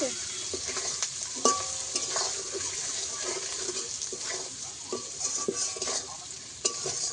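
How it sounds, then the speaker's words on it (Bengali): Fish curry masala with turmeric and chili powder sautés in a pan for a hilsha fish curry, a soft continuous sizzle broken by scraping stirs and small clinks, fairly close with no talking. "দিয়ে কিছুক্ষণ কষিয়ে নেবো।"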